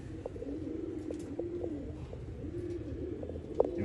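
Pigeons cooing in a loft in Bangalore, soft low repeated coos with a few brief chirps, fairly close and steady throughout, no talking.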